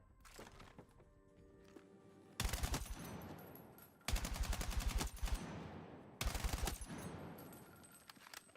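Gunfire in the Battlefield 6 video game: three loud bursts of rapid automatic fire with booming low end, each lasting under a second, separated by quieter ringing tails and faint background noise.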